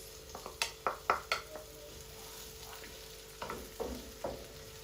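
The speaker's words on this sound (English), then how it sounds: "So we're going to let this saute." Onions sautéing in heating oil in a pan, a soft steady sizzle with a cluster of sharp clicks and stirring scrapes early on and a few more near the end, close and fairly quiet.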